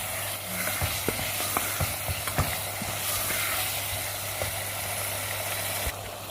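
Masala handi with cream simmering in a pot, a steady bubbling sizzle with a low hum and occasional scrapes of stirring, close by and without talk.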